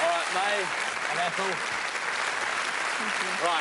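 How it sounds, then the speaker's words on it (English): Studio audience applause on a 1990 British game show, steady broadband clapping filling the whole stretch while a host speaks briefly over it. "let's give them a nice round of applause."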